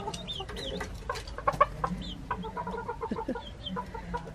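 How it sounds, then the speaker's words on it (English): Several small chicks peep and cluck close by in a lively, overlapping chorus of short high chirps, with a few louder calls standing out against a light background hiss. "There's four chicks."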